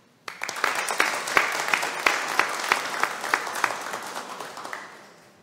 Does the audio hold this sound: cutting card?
no